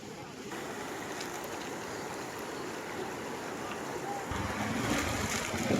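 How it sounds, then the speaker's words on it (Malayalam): A flooded Chappathippuzha river, swollen by an opened dam, pours over its banks and across a road in a steady, loud rush of water. The roar grows slightly fuller toward the end, and no one speaks. "ചപ്പാത്തിപ്പുഴ നിറഞ്ഞ് കവിഞ്ഞ് ഒഴുകുകയാണ് റോഡിലൂടെ"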